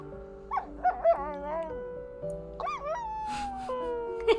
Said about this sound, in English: I got distracted by dog noises